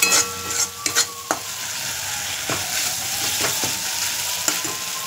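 Ghugni sizzles and fries in oil in a kadai, a steady hiss broken by sharp scraping clicks of stirring, close and clear with no talking.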